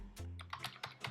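Several quick, light keystrokes click on a computer keyboard in a short, uneven burst, close and fairly quiet.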